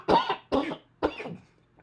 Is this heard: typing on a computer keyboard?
no